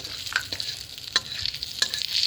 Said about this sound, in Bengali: এটা হতে হতে ওই তেলেই তারপর দিচ্ছি হলো সাদা জিরা